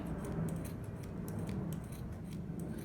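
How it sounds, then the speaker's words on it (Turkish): Scissors working through leftover macrame cord, a steady run of close, dry snipping and rasping cuts that continue for about three seconds with no voices. "Benim makasım birazcık zor kesiyor."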